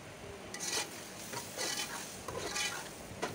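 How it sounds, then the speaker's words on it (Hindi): Spices fry in a pot for Karachi-style beef haleem, with a faint sizzle under repeated scraping strokes of a spoon stirring against the metal, coming in soft bursts about every second. "अच्छे से थोड़ा सा भूनेंगे। अब इसमें ये सारे मसाले ऐड कर देंगे।"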